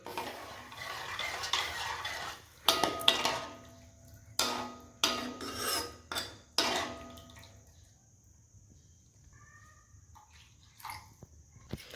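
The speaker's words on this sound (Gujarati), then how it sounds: "પાણી નાખી આપણે મિક્સ કરી લઈએ." Soup mixture for hot and sour soup stirred with a spoon right after water is added, giving close, scraping swirls and clinks against the pot in several bursts, fading to near quiet toward the end.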